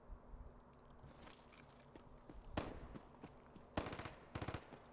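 Distant gunfire in Escape From Tarkov, a few sharp cracks and short bursts scattered over a low ambient background, growing a little louder toward the end.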